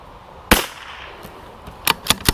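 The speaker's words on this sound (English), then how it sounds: "I'm going to shoot one more group and we'll call it a day." Rifle shots from a Savage MKII FV firing Lapua Super Long Range ammunition at a 200-yard range, one sharp report followed by three more cracks in quick succession near the end, loud and close against a quiet outdoor background.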